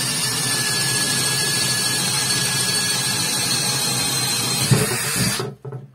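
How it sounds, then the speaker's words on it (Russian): A Makita DDF 485 brushless cordless drill, running in first gear, bores with a 20 mm spade bit in a steady, loud, continuous whir that holds for about five seconds before cutting off abruptly. "Начнем со сверления 20-м пером на первой передаче."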